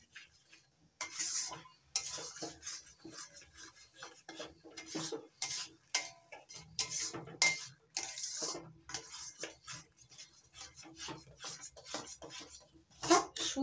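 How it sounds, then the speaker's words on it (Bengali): Semolina stirred into ripe palm pulp and milk in a pan, close repeated scraping and clinking of a spoon against the pan in uneven bursts, faint sizzle beneath, no talking. "সুজি দিয়ে নাড়তে থাকবো, নাড়তে নাড়তে একটা শুকনো ডো তৈরি করে নেব।"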